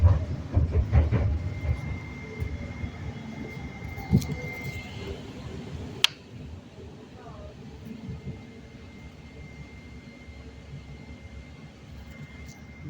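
A train running on rails into Seattle, a steady low rumble and rolling clatter heard from inside the carriage, louder at first and then easing, with a sharp click midway and people talking faintly.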